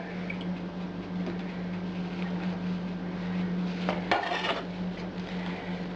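Sorrel tossed with starch is stirred into pie dough in a bowl, a soft, steady scraping with occasional clinks over a constant low hum and a brief louder rustle near the end.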